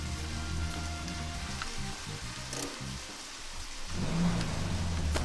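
Steady rain in the video game Deadly Premonition, a continuous hiss with a low drone underneath that swells slightly louder near the end, with no talk.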